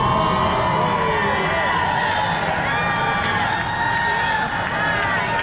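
A large crowd cheers and applauds to welcome Vietnam veterans home, a dense, loud, continuous roar with shouts and whistles rising above it and voices mixed in.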